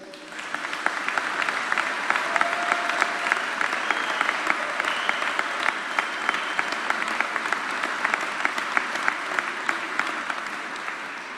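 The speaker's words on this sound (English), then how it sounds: "give a big round of applause to congratulate today's graduates" A large crowd at a university spring convocation applauds the graduates steadily and warmly, sustained clapping filling the space from start to finish.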